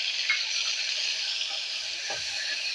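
Crushed half tomato dropped into hot oil with a pinch of asafoetida while cooking a stuffed potato curry with cashew and peanut gravy, giving a steady, even sizzle of frying throughout with a couple of faint clinks.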